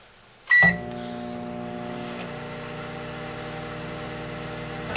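A microwave oven starts with a short beep, then hums steadily and loudly through to the end, with no voices.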